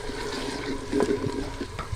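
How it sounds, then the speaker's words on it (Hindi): Water is poured into masala frying in a pan for daal maash, giving a continuous rushing, sizzling wash of liquid with a brief louder surge partway through and no talking. "अब हम इसमें थोड़ा सा पानी शामिल कर देंगे।"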